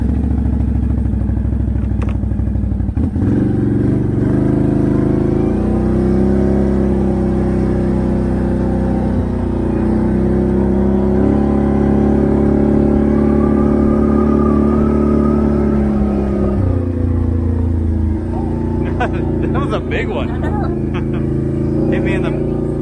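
2021 Can-Am Outlander 650 DPS ATV with an SPI exhaust, the engine droning loud and close, revving up and settling through steady low idle tones while people talk over it.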